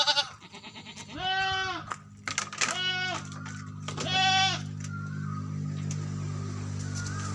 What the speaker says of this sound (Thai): ให้ลูกแพะ ออกมาแบบนี้นะครับ นะครับ ลูกแพะ น่ารักน่ารักนะครับ